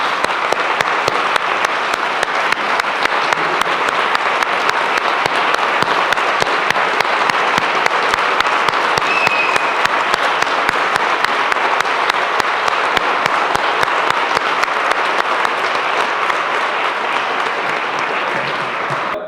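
A seated audience at a talk held by an OCD association in Granada gives loud, continuous applause close by, an even wash of many hands clapping that holds at a steady level for the whole span without pause.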